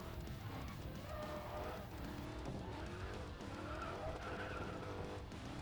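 A modified Dodge Challenger SRT Hellcat drifts in the Racing Master mobile game, tires squealing and skidding continuously over a roaring engine, loud and steady throughout.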